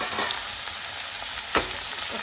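Cucumber pieces drop into onions and green chilies frying in a pan, giving a steady, close hiss of sizzling oil with a brief sharp stirring clatter partway through.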